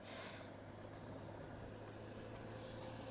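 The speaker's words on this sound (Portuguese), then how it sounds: "Esperar o carro passar, porque não tem pressa" A car passing on a residential street in the Santa Maria neighbourhood: a faint, low engine rumble that swells slightly and fades, with a soft hiss of tyres and no talking.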